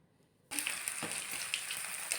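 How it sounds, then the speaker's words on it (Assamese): White taro pieces frying in a wok with two dried chillies and whole cumin start sizzling abruptly after a brief silence, then settle into a steady, fairly quiet crackle with a few sharper pops and no talking. "বগা কচু, সেইখিনি এতিয়া ফ্ৰাই কৰিব কেৰাহীটোত"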